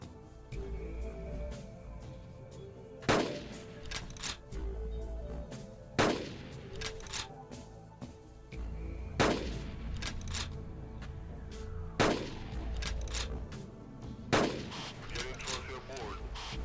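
Gunshots ring out at a stegosaurus in the Carnivores hunting game, five sharp, loud reports spaced about three seconds apart, each followed by a short echoing tail over a low ambient rumble, with faint other noises between shots.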